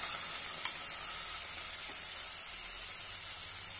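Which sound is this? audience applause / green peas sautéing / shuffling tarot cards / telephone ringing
green peas sautéing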